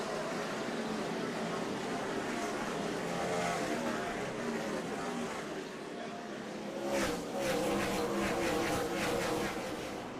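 NASCAR stock cars racing in the 2007 Goody's Cool Orange 500 make a constant dense roar that swells as engines pass, with a commentator talking over it.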